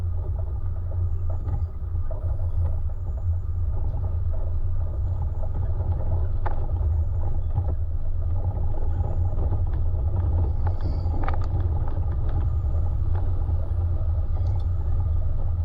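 A 76 Series 4WD descends a steep track in low range third gear while braking. A steady low engine and drivetrain rumble continues throughout, with faint creaks and rattles and no talk.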